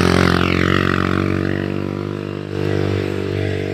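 Motorcycles ride along a road in the morning, their steady engine drone humming fairly loud and close throughout, easing slightly midway before swelling again.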